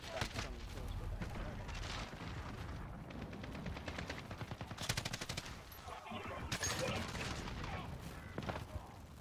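Rapid gunfire and explosive blasts from the Modern Warfare video game, dense bursts of automatic fire with heavy booms layered throughout, loud and continuous, with a voice talking over the action.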